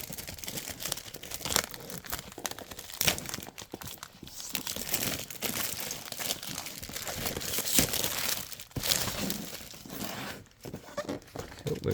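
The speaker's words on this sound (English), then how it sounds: "So plastic's easy to pull off" Plastic wrapping crinkles and tears as it is pulled off a Mars lander model during an unboxing, a continuous close-up rustle with sharper rips for about twelve seconds, no talking.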